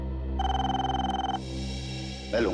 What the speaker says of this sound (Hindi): मैं लूंगा फोन।